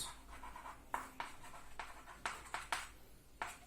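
Pen or chalk strokes scratching out a formula during a current electricity revision lesson, a steady run of short scribbles with sharp tapping accents, close and alone with no voice.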